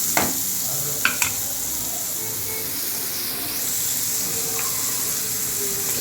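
Slit green chillies frying in a hot pan, a continuous loud sizzle and hiss with a few sharp clinks of a spoon against the metal.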